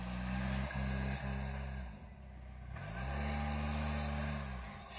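An off-road jeep engine revs hard during a climb, surging and falling in loud rising and falling bursts with short breaks between pushes, and no talk over it.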